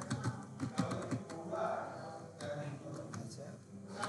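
Keys click on a computer keyboard while text is typed in Adobe Illustrator for a business card design, quick irregular taps running under steady talking.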